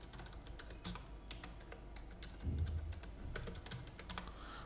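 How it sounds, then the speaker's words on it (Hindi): Steady, close typing on a computer keyboard during CSS coding, with quick irregular key clicks running throughout and no talk. "चलो आनीरा मैं टाइप कर लेता हूँ"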